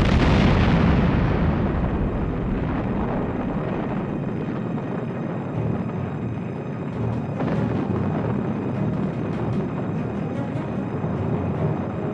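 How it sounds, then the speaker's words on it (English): The SS Grandcamp freighter exploding as its chemical cargo detonates, a loud sustained roaring blast that begins at full force and rumbles on for many seconds with crackling debris. "The ship's cargo of a supposedly harmless chemical had detonated"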